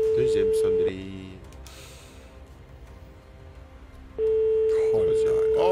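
Telephone ringing on a live televised prize draw call: a loud sustained ring tone stops early, a quieter stretch of room noise follows, then the ring returns loudly toward the end.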